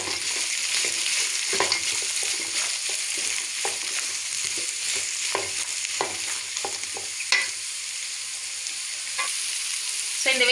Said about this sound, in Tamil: இப்போ இதில் பீன்ஸு, கேரட், கோஸ் 3ஐயும் ஆட் பண்ணி ஃப்ரை பண்ணிக்கலாம்.